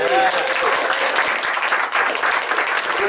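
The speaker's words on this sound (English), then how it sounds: "Round of applause" A crowd claps loudly and continuously at an arts center music festival, a thick wash of applause with a voice briefly audible over it.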